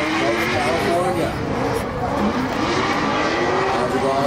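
Formula Drift Pro2 race car driven by Madrigali, number 240 with carbon fiber doors, holding a big-angle drift in smoke, engine roaring steadily with tire noise throughout while a commentator talks over it.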